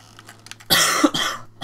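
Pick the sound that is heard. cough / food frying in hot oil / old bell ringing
cough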